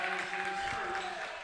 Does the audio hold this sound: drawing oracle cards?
no